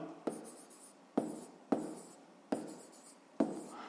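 Pen writing on paper during a fifth-grade math exercise: soft scratchy strokes broken by five crisp taps at uneven intervals, close-up and quiet, with no speech.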